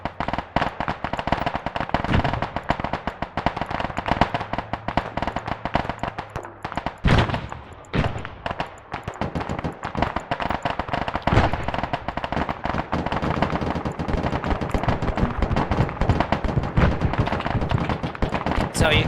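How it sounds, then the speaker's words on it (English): A heavy battle in the Arma 3 military sim, with dense crackling gunfire and scattered heavier booms from main battle tank rounds rolling on for nearly twenty seconds at mid distance. "So you can hear that field of fire down here"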